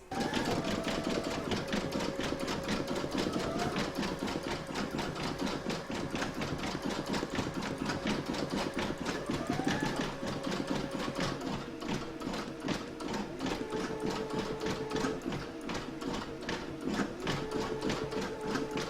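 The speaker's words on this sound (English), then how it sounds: "you're going to stitch round number 6, and that's going to do the black of the eyes" A computerized embroidery machine stitches an in-the-hoop pouch design in black thread, its needle hammering in a fast, steady mechanical rhythm close by, accompanied by continuous motor whir for the whole stretch.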